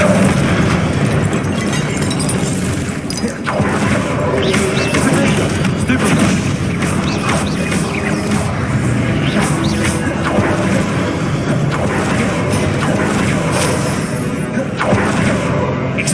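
Spell blasts and explosive booms from combat in the Hogwarts Legacy video game, a dense, loud, continuous barrage of bursts and impacts layered over game sound throughout.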